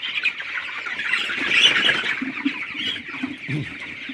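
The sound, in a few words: chickens clucking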